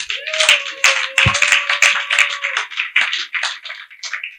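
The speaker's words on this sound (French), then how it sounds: "Est-ce qu'on peut acclamer pour le Seigneur?" Church congregation breaking into sustained applause for the Lord, a dense crowd of hands clapping steadily for several seconds, with a held tone running underneath for the first half.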